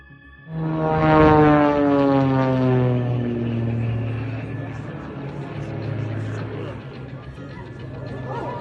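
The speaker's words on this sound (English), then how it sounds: "4 planes have entered an irreversible dive" A propeller plane's engine drones loudly, its pitch falling steadily as if diving, with a steady roar continuing to the end.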